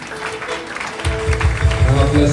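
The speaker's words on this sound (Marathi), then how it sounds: "टाळ्या वाजवूया आपण." Applause at an engagement ceremony, a short burst of clapping from a gathered crowd that swells after a quieter second, with voices mixed in.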